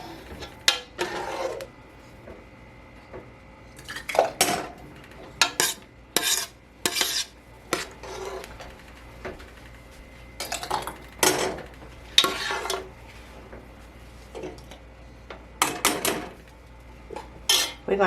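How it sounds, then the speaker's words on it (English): Metal lids and rings being set onto glass canning jars of black bean and corn salsa: a long run of sharp clinks and clanks in irregular bursts, close up, with no talking. "we're going to put lids and rings on here"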